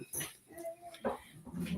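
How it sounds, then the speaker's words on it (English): A dog whimpers and yips in the background, brief whiny cries and a short bark rising over faint indoor noise, with people talking nearby. "I just got a little background noise from the dog."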